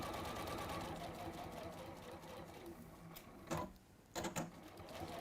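A sewing machine runs steadily while stitching fabric for a bag, a continuous whirring hum that is close and moderately loud, with a few brief clunks near the end.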